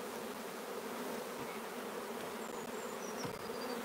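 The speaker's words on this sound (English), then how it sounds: "I just want to shake some of these bees off these, these uh, frames because there's an awful lot of bees here." Honeybees shaken off hive frames during queen cell rearing give a dense, steady buzz from a large crowd of bees, continuous and fairly loud throughout, with no voices.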